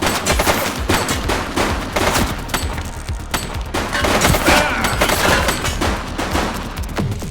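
Sustained gunfire in the Xbox Series X police game Precinct, dense rapid volleys of loud shots and bursts overlapping continuously with booming impacts and no pauses.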